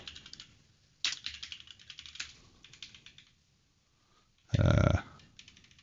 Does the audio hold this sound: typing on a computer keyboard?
yes